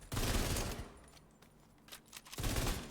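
Rapid automatic gunfire at the shooting range in the video game The Division 2 rattles in two loud bursts, one at the start and one at the end, with a quieter gap between.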